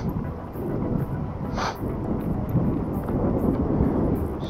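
Wind buffets the microphone on a Trek bike ride, a continuous loud low roar with gusty fluctuations and a brief higher whoosh partway through, with no talk.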